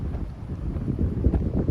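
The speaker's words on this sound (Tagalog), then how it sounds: "Tapos mahangin." Wind buffets the microphone outdoors near a lake and pine trees in Ashland City, Tennessee, a low rumbling roar that swells and gusts throughout.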